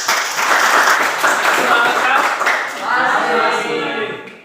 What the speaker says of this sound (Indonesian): Berikan aplaus buat kita semua.